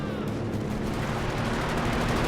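Strafing-run gunfire in Company of Heroes 2, a dense, continuous roar of rapid shots and rumbling impacts sustained loudly throughout.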